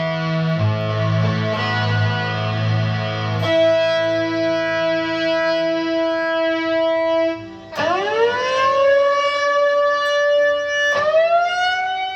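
An Electro-Harmonix SYNTH9 synthesizer with a control cranked all the way up produces a loud wailing tone with rich harmonics that sweeps up and settles, repeating twice, imitating a police siren.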